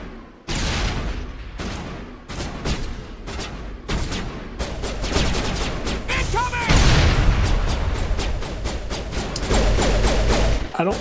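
Grenade blasts and heavy gunfire from the Mass Effect video game, a dense run of loud booms, crashes and bursts that builds into a continuous roar of combat over eleven seconds, with brief voices mixed in.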